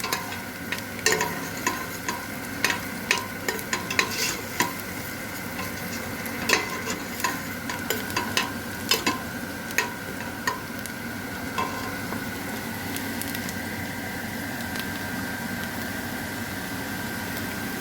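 Onions and peppers sautéing in olive oil for a bean stew, a steady sizzle under repeated clicks and scrapes of a utensil stirring the pan, close by, easing into continuous frying toward the end.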